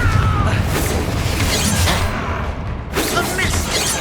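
A Confringo spell explodes in Hogwarts Legacy, giving loud crashing blasts and shattering debris over a dense, continuous roar of combat noise.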